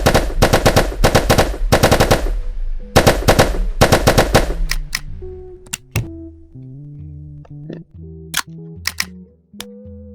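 Rapid bursts of gunfire from firearms in a VR active ragdoll physics game, loud, close and crisp, fill the first half. Sparser single shots and clicks follow over quieter tonal game sounds.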